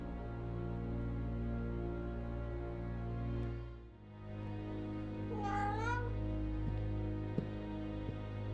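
A cat gives one drawn-out meow over a steady low hum, followed by a few faint taps.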